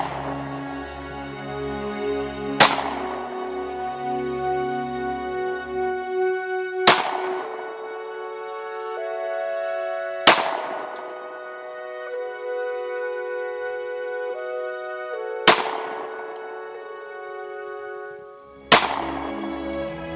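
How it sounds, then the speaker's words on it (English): Rifle shots at an outdoor shooting range, five sharp reports spaced a few seconds apart, each followed by a ringing decay over a steady sustained tone in the background. "commence fire"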